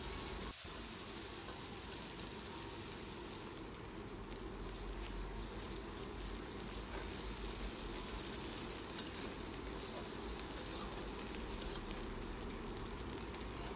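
Onion paste fries gently in oil for a bhola fish curry, giving a faint, steady hiss of sizzling that continues evenly throughout without talk.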